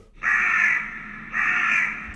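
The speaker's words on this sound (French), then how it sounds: "on peut mettre un corbeau" Two loud, drawn-out crow caws come close together, each harsh call holding for about a second, clear and alone against near silence, used as a background sound effect in a video edit.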